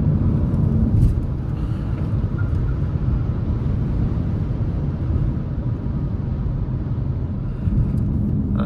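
Renault R5 electric car, 150 hp, accelerating: a steady, loud cabin rumble of road and wind noise that holds for several seconds with no distinct engine note.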